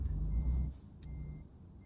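Reversing beeps from a vehicle in a truck simulator game, a faint repeating tone over low engine rumble, brief and somewhat distant.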